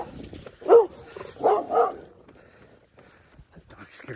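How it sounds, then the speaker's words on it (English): A dog barks and yips three times in quick succession near a running path, loud and close, then falls quiet over faint outdoor background. "That dog scared the shit out of me"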